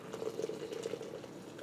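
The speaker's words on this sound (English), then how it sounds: "I'm just filling this up with hot water." Hot water poured from a kettle into a French press over about 56 grams of ground coffee, a steady close-up liquid stream and bubbling hiss that holds evenly throughout with no talk.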